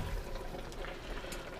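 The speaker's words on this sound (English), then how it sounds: "I am going to fill it with some hot water first, because I want to melt that." Hot water pours steadily into an Instant Pot while making beef stew, a continuous close rushing and splashing fill at moderate level with no talk.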